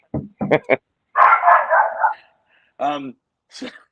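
A dog barks in quick short bursts, three sharp yaps followed by a longer whining howl and another couple of barks, loud and close against quiet surroundings.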